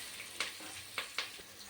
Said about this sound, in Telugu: పచ్చిమిరపకాయలు వేయండి, ఉల్లిపాయలని వేయాలి త్వరగా